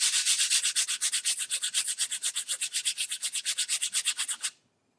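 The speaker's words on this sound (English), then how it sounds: "the first thing I'm going to do is just sharpen these two pieces of charcoal" Rhythmic rasping strokes of charcoal drawing sticks being sharpened, around forty quick even back-and-forth rubs close up, stopping cleanly near the end.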